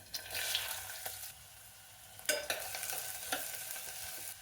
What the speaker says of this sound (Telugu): ఒక మూడు మీడియం సైజు ఉల్లిపాయలని ఇట్లా సన్నగా కట్ చేసుకున్నాను వీటిని వేసేస్తున్నాను